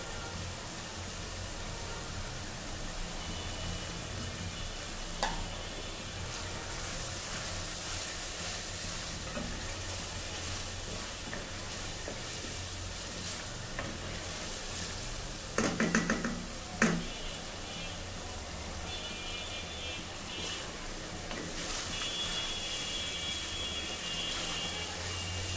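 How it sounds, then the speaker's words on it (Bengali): Tomatoes sautéing in spice masala in a pan, a steady broad sizzle throughout with occasional faint clinks of a utensil stirring, no talking. "একটু কষানো হোক টমেটোটা।"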